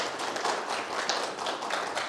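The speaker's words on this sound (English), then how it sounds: "Kudos, gratitude, and another well-deserved round of applause." Dense, continuous applause from a congregation at a Unitarian Universalist fellowship gathering, many hands clapping together at an even, sustained level with no speech over it.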